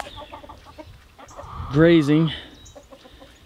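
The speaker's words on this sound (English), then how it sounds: "So I have a few chickens kind of running around all over the place." Australorp chickens on a homestead cluck and squawk up close, one hen giving a loud drawn-out rising call in the middle, over softer clucks and a brief spoken word.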